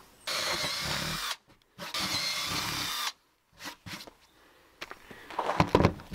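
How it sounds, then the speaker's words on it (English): A power drill fitted with a 1/4 inch bit bores holes for a homemade protest shield, running in two loud whirring bursts with pauses between, followed by scattered knocks and handling clatter. "So make sure you drill these at 1/4 inch."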